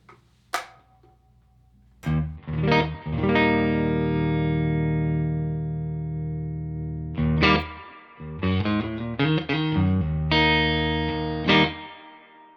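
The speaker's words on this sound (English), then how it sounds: "Has a very nice reverb, as you can hear." Sustained electric guitar chords ring out through a Two-Rock Vintage Deluxe 40-watt amplifier with a lush, spacious reverb tail, followed by several shorter strummed chords that bloom and decay.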